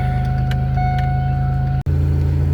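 A 1997–2003 Pontiac Grand Prix GT engine idles loudly and close by with a steady, even hum, broken only by a momentary dropout near the end.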